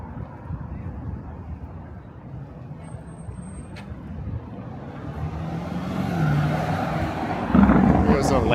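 Cars including a Lamborghini and a Porsche drive by on a Toronto street near Bay and Bloor, a steady traffic rumble that swells louder toward the end as the vehicles pass close.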